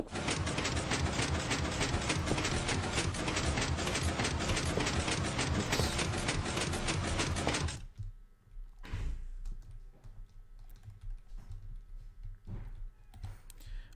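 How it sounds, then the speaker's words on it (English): Minecraft pistons driven by an observer extend and retract in rapid, even clicking bursts that form a dense mechanical chatter for about eight seconds, then stop, leaving a few faint scattered clicks. "this observer here fires, powers this block, and powers this piston again, making it extend again as soon as it retracts"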